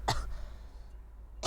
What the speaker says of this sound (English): Hold on, let me clear my throat.